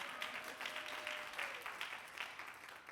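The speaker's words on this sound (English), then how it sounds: "It's okay to clap, go ahead." Audience at an evening literary event at the Schomburg Center in Harlem gives a brief round of light, scattered applause, fairly faint and uneven, with claps rising and falling over a few seconds.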